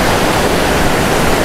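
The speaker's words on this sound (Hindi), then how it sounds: "छेद में से पानी आ रहा है" Water gushes out of a hole in the rock near Har Ki Dun, making a loud, close, unbroken rushing roar like a small waterfall.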